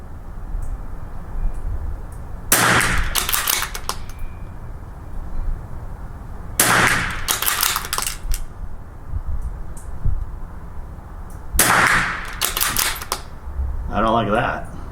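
Rifle shots from an SK match rifle firing Lapua Long Range .22LR rounds, three sharp reports spaced a few seconds apart, each with a short echoing tail, followed by a fainter clack, over steady outdoor background noise.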